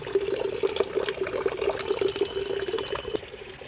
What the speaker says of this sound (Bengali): এদিকে বালতিতে জল ভরতে নিয়ে নিয়েছি জল হচ্ছে